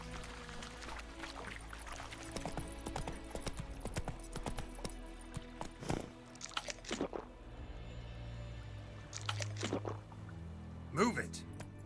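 Roach, the horse in The Witcher 3: Wild Hunt, trots with a rhythmic clip-clop of hooves under game ambience, with scattered louder knocks and a voice speaking near the end.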